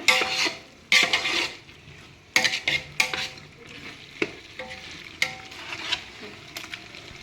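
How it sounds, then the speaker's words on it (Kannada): Chicken pieces and masala for biryani being stirred in a pot, with repeated scraping clanks of a metal spoon against the vessel over a steady low sizzle, close and fairly clear, no talk. "ಹಾಕಿ ಚೆನ್ನಾಗಿ ಮಿಕ್ಸ್ ಮಾಡೋಣ ಮಾಂಸಕ್ಕೆಲ್ಲ ಚೆನ್ನಾಗಿ ಮಸಾಲೆ ಹಿಡಿದಿದೆ"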